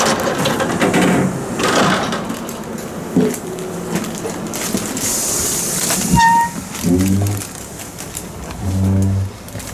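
An Italian ICN night train stands at a station platform, with a steady rumble of rail noise, hissing, and a few short mechanical tones and clunks near the carriages.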